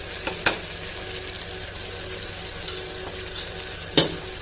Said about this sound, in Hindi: अब हम इसमें डाल देंगे ये टमाटर।